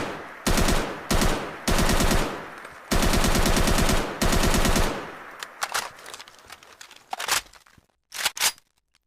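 Loud bursts of AK-74M automatic rifle fire in Fallout 4, five long rapid volleys, then scattered shorter shots with sharp echoing cracks trailing off.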